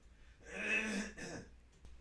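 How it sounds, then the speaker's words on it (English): A single throat clearing on a live morning talk radio broadcast, a short, fairly quiet rasping burst followed by a softer second catch, with no speech. "no need to clear your throat on the air"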